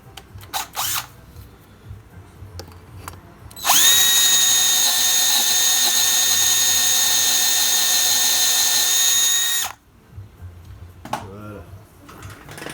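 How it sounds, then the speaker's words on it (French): A drill bores a hole into a gearbox casing to take a helicoil thread insert, a loud steady high whine lasting about six seconds, with quieter handling noises and a voice speaking before and after. "Faire gaffe à pas percer trop profond."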